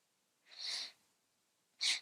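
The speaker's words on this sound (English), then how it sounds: "Sorry for the sniffles, folks. I'm a sniffler." Two short airy sniffs through the nose, close and fairly soft, the first longer and the second quick and sharp, with quiet pauses around them.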